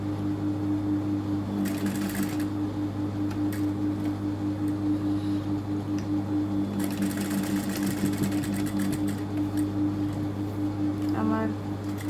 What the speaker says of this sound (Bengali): সমান করে ধরে দেখেন এইখানে সেলাইটা আটকাবো।